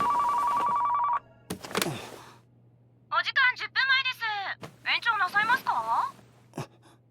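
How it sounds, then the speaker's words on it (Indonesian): A telephone rings with a steady electronic trill for about a second, followed by brief noises and then excited, high-pitched voices talking. "bunyi telepon pun berdering"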